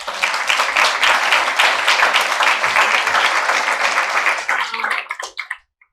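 An audience applauds a panel of basketball officials, a thick wash of clapping that holds steady for several seconds and then quickly dies away to silence.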